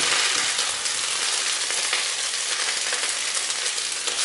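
Rice with vegetables and chorizo sizzles and crackles steadily in a hot pan over high heat, a dense continuous frying hiss with no voices.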